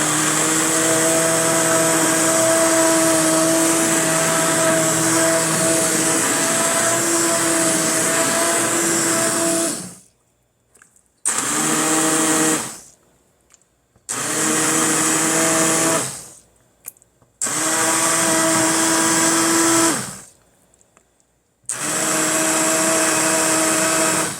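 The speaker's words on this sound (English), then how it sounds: "You don't have to put all your hot soup into a blender. You just immersion blend." An immersion blender whirs loudly in a pot of hot tomato soup for tomato bisque, a steady motor hum that cuts out and restarts several times in short bursts with brief silences between.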